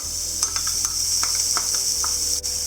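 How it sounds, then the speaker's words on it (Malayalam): A medium onion, very thinly sliced, hits hot ghee with garam masala for ghee rice, giving a steady close sizzling hiss with a few light stirring clicks and scrapes of the pan. "ഇനി നമുക്ക് ഇതിലേക്ക് ഒരു മീഡിയം സൈസ് സവാള വളരെ കനം കുറച്ചരിഞ്ഞത് ചേർക്കാം."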